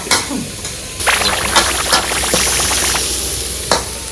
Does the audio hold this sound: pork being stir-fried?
yes